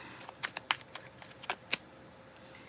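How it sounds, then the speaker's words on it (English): Loud crickets chirp in steady, repeated bursts, forming a close, shrill insect chorus with no voices over it. "I know the crickets are loud."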